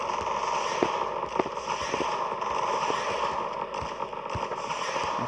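Rifle fire in the video game Zombie Defense crackles in a steady, rapid stream of sharp shots at moderate loudness, continuing without pause and with no talking.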